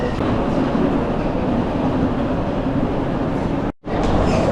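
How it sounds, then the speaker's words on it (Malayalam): A steady, loud rumble of a Paris Metro Line 14 train arriving at a station, continuous throughout with a brief dropout near the end. "എം പതിനാല് എന്ന് പറഞ്ഞ മെട്രോ ആണ് ഇങ്ങോട്ട് വരുന്നത്"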